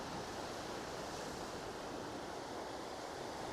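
Ocean surf washing onto a beach piled with driftwood, a steady broadband roar of breaking waves with some wind, continuous and fairly near, no voices.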